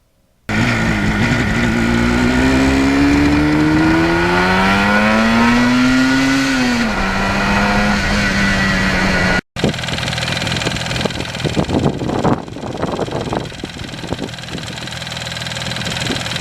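A 1977 Yamaha RD 400 motorcycle engine climbs and falls through steady, loud revs for about nine seconds, then settles into a rougher, sputtering idle with uneven pops after a brief cut.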